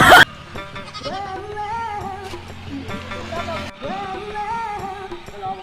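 Goats on a village farm bleat repeatedly in wavering, nasal calls, close and fairly loud, with voices and rustling around them.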